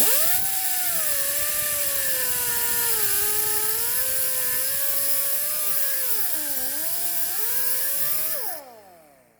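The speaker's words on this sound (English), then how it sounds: "Grab your death wheel and make a small incision on the pipe." A cut-off wheel grinding into the exhaust pipe of a 2018 Ford F150 XLT: a steady, loud, close high whine with wavering pitch, which winds down and fades near the end.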